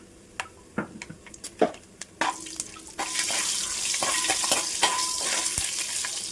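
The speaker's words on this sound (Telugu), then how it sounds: "కొంచెం ఫ్రై అవ్వాలండి. మసాలా నూనెలో ఫ్రై అయితే టేస్ట్ బాగుంటుంది." Whole spices sizzling and frying in hot oil for chicken biryani, with scattered spoon stirs and taps at first, then a steady loud sizzle taking over and continuing.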